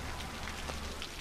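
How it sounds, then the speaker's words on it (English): Steady rain hisses over a city in Cities: Skylines, a dense, even wash of drops with no break and no voices. "This rain is really bothering me."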